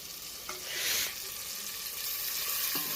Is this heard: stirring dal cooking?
yes